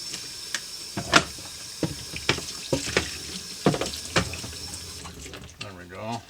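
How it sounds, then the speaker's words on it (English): Water runs from a tap while something is rinsed at a sink during campsite rib preparation, a steady stream broken by knocks and splashes, close, with the flow stopping near the end as a voice begins. "again, rinse this off a little bit."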